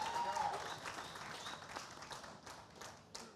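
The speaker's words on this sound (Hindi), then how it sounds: "जोरदार तालियां हो जाएं" An audience claps for the cricketers Irfan Pathan and Yusuf Pathan at an interview event on stage, with steady, moderate applause under a faint voice that fades toward the end.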